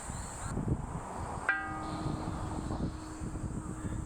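A single strike of a bell hanging at a restaurant entrance rings out with a long, steady humming tone that lingers and slowly fades against a low background rumble.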